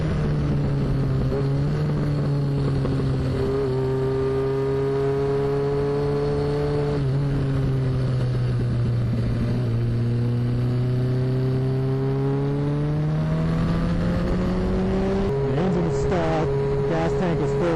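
A 1981 Suzuki GS850 motorcycle cruising at highway speed, around 60 to 65 mph, makes a steady, droning engine hum with a slight rise and fall in pitch, heard close and continuous throughout.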